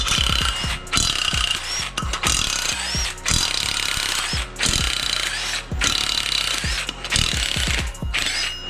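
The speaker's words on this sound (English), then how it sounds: "you're gonna have to remove all 8 of these 14mm bolts that hold on the flex plate" Repeated bursts of a ratchet or power tool loosening the eight 14mm flex plate bolts on a Toyota 2JZ engine, each run of mechanical whirring and clicking broken by short pauses, close and loud with no talking.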